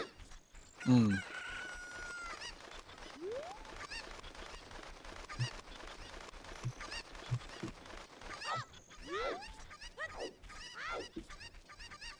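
Cucco roosters crowing in the video game Zelda: Ocarina of Time, several rising cock-a-doodle-doo calls and squawks overlapping through a busy game soundscape, loud crows near the start and again toward the end.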